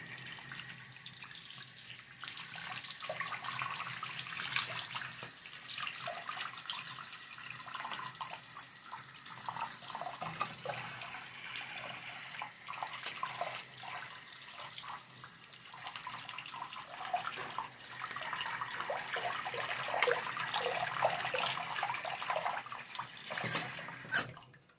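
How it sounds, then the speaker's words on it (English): Water runs steadily from a tap into a sink while rinsing a Jada diecast model car, a continuous close splashing hiss that swells and shifts as the car moves under the stream, with no talk. "Rinse it off again."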